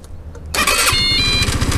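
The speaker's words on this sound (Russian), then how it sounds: "Пожалуйста, скутер завелся." A Galaxy scooter engine is remote-started with a key fob: after a quiet lead-in, it catches with a sudden loud burst and settles into a steady, close, pulsing idle, with no talking.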